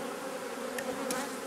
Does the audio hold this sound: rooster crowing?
no